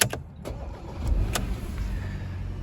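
A 2018 Porsche Macan starts up: a couple of clicks, then the engine catches with a low rumble that settles into an even idle close by.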